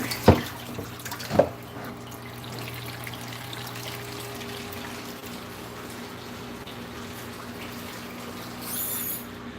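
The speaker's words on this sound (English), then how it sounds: "Let's put some bubbly in this pan and let Dawn do its magic work." Water runs steadily into a kitchen sink while a pan is washed with Dawn dish soap, with two sharp knocks near the start and a constant close rush afterward.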